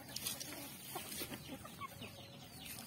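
Farmyard chickens raised on feed pellets cluck softly and intermittently, faint and somewhat distant over a hissy outdoor background.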